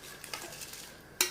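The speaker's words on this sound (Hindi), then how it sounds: "इसमें हम चावल डाल देते हैं।" Rice poured into a pot of boiling water, a short soft rustling patter of grains with light bubbling, ending in a sharper splashing hiss, close and alone.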